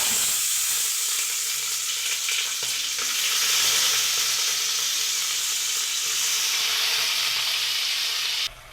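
Onions and shallots dropped into hot oil with mustard seeds and fenugreek, a loud continuous hissing sizzle close by that holds steady for several seconds before cutting off abruptly.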